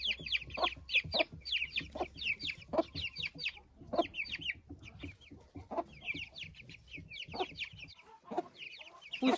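Broody hen clucking with her chicks in a coop yard, answered by rapid high peeping from the chicks, steady busy chatter for the whole stretch with no one talking.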